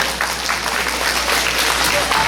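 Applause from a concert audience for a singing duo, a dense, moderately loud patter of many hands clapping steadily for a couple of seconds with faint crowd murmur.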